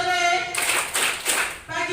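A group of people claps hands together in a clapping game, a dense burst of clapping lasting about a second between stretches of a voice speaking.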